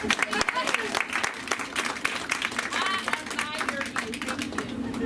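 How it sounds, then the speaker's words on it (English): A staff meeting audience claps for a colleague, producing a dense patter of hand claps mixed with voices talking over it for about five seconds. "Can we please just give Ms. Kozak a round of applause for her tenacity?"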